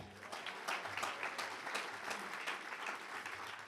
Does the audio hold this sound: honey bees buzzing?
no